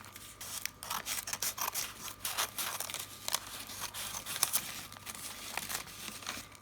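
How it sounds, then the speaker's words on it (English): Scissors snip through paper up close in a quiet indoor craft setting, a series of quick, faint crisp cuts with light paper rustling and no talking. "Now I'm going to be cutting this piece of paper again to seal this part up"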